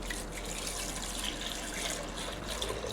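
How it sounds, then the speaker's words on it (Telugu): Water poured steadily into tomato rasam, a soft continuous trickling splash that holds at an even level for a few seconds with no talking. "ఇప్పుడు నీళ్ళు పోసుకుందాం"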